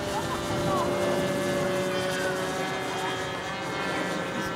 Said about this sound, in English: I'm flying a plane.